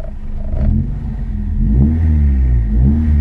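A Mitsubishi Lancer engine revs up close, a steady mid-pitched rumble that swells and climbs twice in RPM, loud throughout with no talking.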